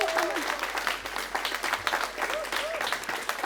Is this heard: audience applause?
yes